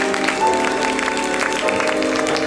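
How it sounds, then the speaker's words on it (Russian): Audience at a ballroom dance championship, the professional American Smooth event, applauds the winning couple; a steady, moderate wash of clapping fills the hall over music-like tones. "Ваши аплодисменты."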